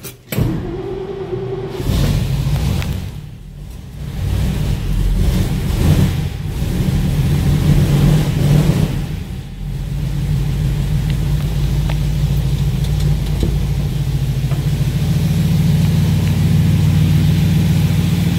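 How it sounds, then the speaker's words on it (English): A 1955 Studebaker short-bed truck engine cold-starting after sitting for a long while: a brief crank catches, then a loud, steady low idle rumbles close by and settles into an even drone. "you are going to see what a cold start is"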